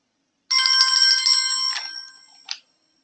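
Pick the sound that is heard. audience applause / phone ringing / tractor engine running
phone ringing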